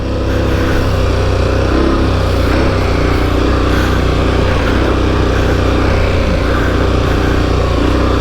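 A KTM 1090 Adventure R motorcycle rides through sand, its engine droning loud and steady with throttle held on, accompanied by constant wind and ground rumble close to the rider.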